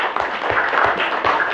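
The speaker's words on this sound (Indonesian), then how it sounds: "Ya, tepuk tangan yuk." A classroom of students clapping hands together, a dense, fairly loud patter of claps with a few rhythmic pulses, heard alone without talk.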